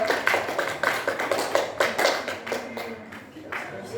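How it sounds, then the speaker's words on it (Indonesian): A group at a school training session claps in brief bursts of applause, with sharp hand claps scattered unevenly and thinning out toward the end, fairly close and moderately loud. "Tepuk tangan buat kelompok B."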